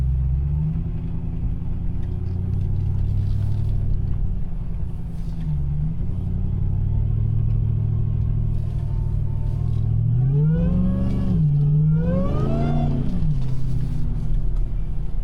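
A car drives over a snowy mountain pass with a steady low engine rumble throughout; near the end the engine note swells and wavers as it revs up and down, with no talk.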